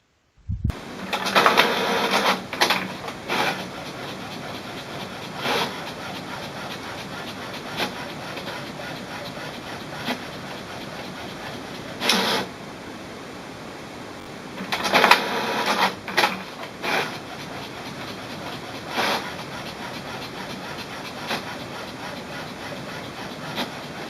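An HP Smart Tank printer runs steadily while printing two-sided pages, with repeated mechanical bursts of feeding and clattering as pages pass through, loud and close with a constant whir between.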